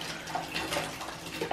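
A bathtub fills with both hot and cold taps on full, making a loud, continuous rush of splashing water that is steady and alone throughout.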